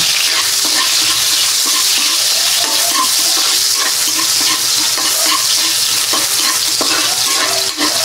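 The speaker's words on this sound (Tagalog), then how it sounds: "Dito na lang din po ako magigisa kasi sayang naman po yung mantika." Ginger sautés in reused cooking oil for an adobo sa gata of chicken feet, heads and liver: a loud, continuous close-up sizzle with scattered light clicks of stirring, with no speech.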